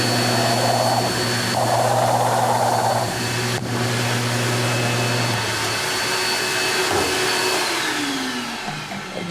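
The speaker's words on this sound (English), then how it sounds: "So we're going to drill a pilot hole." Power drill boring a shallow pilot hole into a bowling ball for an EXJ covert layout, a steady loud whirring motor hum with a brief click partway through and the pitch easing off toward the end.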